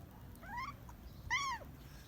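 A cat meows twice, short rising-falling calls a moment apart, fairly faint over a low background rumble.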